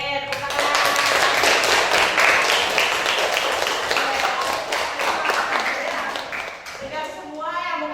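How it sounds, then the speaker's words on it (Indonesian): A classroom of students applauds at the close of a mock courtroom trial, a dense burst of clapping that holds steady and then tapers off, with voices mixed in near the end. "Oke, tepuk tangan."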